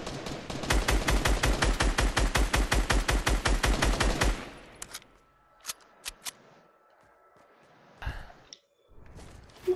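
Rapid automatic gunfire in a realistic video game rattles in a loud, close, even burst for about four seconds, followed by a few isolated shots and scattered clicks in near silence.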